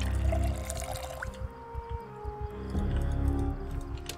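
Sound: water being refilled in video game Project Zomboid

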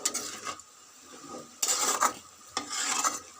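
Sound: mustard greens frying with salt and turmeric

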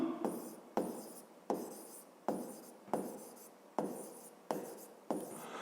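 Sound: writing by hand

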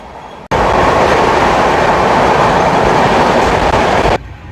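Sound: Howrah-Puri express train running

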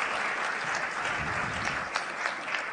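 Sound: audience applause at an awards ceremony

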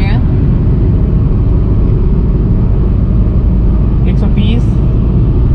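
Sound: Volkswagen Polo engine driving at 120 km/h in fifth gear

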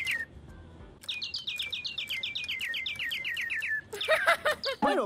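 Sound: birds chirping in an ice cream shop video game

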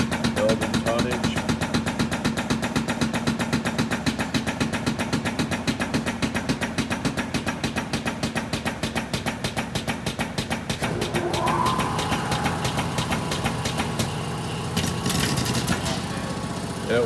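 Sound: air over hydraulic pump on 200 ton hydraulic press building tonnage

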